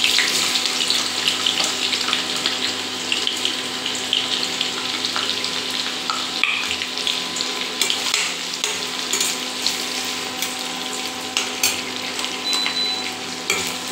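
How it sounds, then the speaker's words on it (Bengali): Onions dropped into a pan of browned garlic fry with a steady, close crackling sizzle that runs throughout, bright and dense, with small pops and clatters scattered over it and no talking. "এবার আমি এতে এক এক করে পেঁয়াজ দেবো।"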